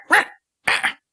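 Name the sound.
person imitating a gerbil barking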